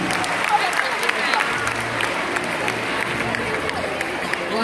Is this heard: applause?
yes